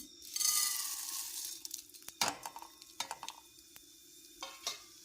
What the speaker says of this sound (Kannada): ಇವನ್ನು 1-2 ನಿಮಿಷ ಹುರ್ಕೋಬೇಕು ಎಣ್ಣೆಯಲ್ಲೇ.